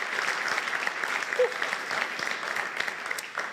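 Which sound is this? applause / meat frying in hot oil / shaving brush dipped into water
applause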